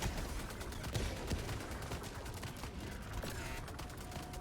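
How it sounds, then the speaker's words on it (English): Rapid machine gun turret fire in Helldivers 2 rattles on steadily as a dense, continuous burst of gunfire mixed with explosions and battle noise. "Fucking machine gun turret."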